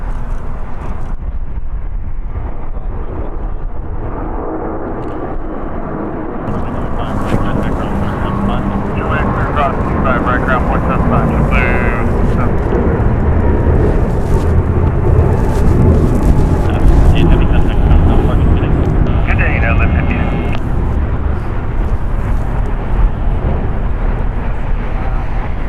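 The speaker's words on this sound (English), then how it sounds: "Departing here on the south side is United Airlines Flight 1158 going to Honolulu." A 22-year-old United Airlines Boeing 777 departs from the south side of LAX, its jet engines a steady broad roar that swells and holds for the whole stretch, with people talking over it.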